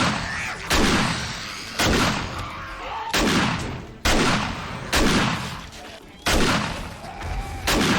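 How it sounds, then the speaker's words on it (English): Explosions from mines being stepped on in the game 7 Days to Die, a series of loud, sharp blasts about every second with decaying rumbles between them. "There's another explosion there. It looks like somebody stepped on a mine."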